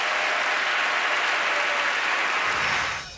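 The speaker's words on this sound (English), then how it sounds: "a huge round of applause" A school audience at a Songs of Praise choir competition claps loudly and steadily, with a dense, even wash of applause that fades out at the end.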